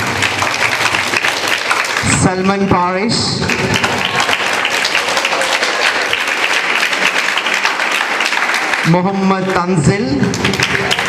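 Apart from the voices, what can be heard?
applause as student names are announced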